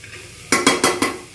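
Tarka dal stirred in a pan, a utensil scraping in four to five loud, evenly spaced strokes over a low sizzle, close and without talk.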